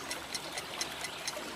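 Sweet tanker water flowing in a cartoon crow's homemade swimming pool, a soft continuous trickle and gurgle with small periodic splashy bursts, fairly faint and with no voices.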